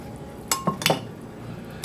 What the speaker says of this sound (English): This one is going to be my main pot that I'm going to use, and this one is the first pot. I'm going to put my bones in here.